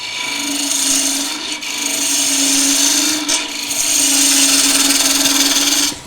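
A skew chisel cuts wood turning on a lathe for a table lamp, a loud, steady scraping hiss over a low motor hum, with two brief breaks where the tool lifts off before cutting again.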